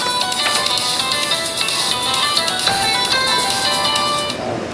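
A mobile phone rings from inside a pocket, a steady electronic ringtone with repeating tonal notes carrying through the whole span before cutting off near the end, fairly loud and without talk over it.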